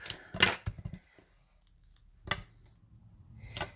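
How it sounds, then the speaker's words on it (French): Small scissors snip through paper at close range in a few sharp, crisp cuts separated by quiet pauses, with no talking. "Petits ciseaux."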